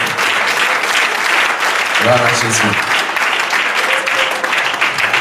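A church congregation claps and cheers steadily throughout, a dense wash of applause with a voice briefly speaking over it.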